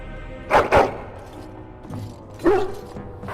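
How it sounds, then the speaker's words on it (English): A dog in Dragon Age: Origins gives two quick close barks, then a third a couple of seconds later, with quiet ambience between. "Hello, doggy."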